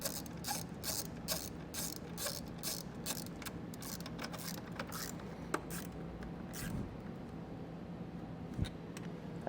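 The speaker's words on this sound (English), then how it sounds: "come back with my socket and tighten it down" A socket ratchet tightens the bolt on a battery charge line kit, giving a rapid, steady run of close clicking pawl strokes that slow and thin out toward the end, with a couple of sharper clicks.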